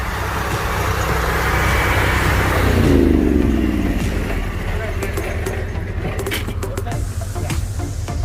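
A police vehicle's engine runs on a busy street, with a steady idling rumble, a passing swell of traffic noise, and speech heard over it.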